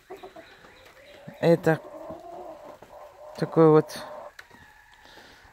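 Roosters in a home yard give two loud, close bursts of clucking calls amid softer background fowl noises, while someone talks quietly between them.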